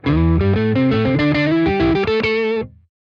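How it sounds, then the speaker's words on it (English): An electric guitar runs through an octave fuzz in an amp simulator, playing a quick run of thick, buzzing, distorted notes that step along for under three seconds and then cut off. "Let's have some octave first"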